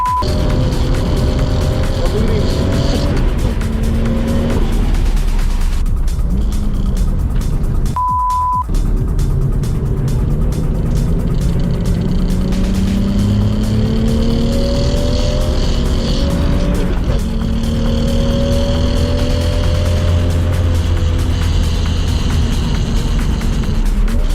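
A Toyota Supra race car, roaring at Sydney Motorsport Park in a six-hour endurance race, is heard from the cockpit; the engine is loud and steady, rises and falls through the gears, and stays close and constant throughout.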